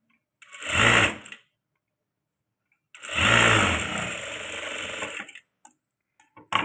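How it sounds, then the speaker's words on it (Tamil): A sewing machine stitches a princess cut blouse in two loud, close bursts, a short one then a longer steady run, with a quiet pause between. "அந்த மார்க் பண்ண இடத்த அழகாக கரெக்டாக அந்தந்த இடத்துல வச்சு நான் ஸ்டிச் பண்ணுறேன்"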